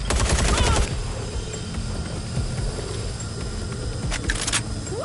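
Video game gunfire in Watch Dogs: Legion, a rapid crackling burst of automatic shots up front followed by scattered, quieter shots later over a steady background din.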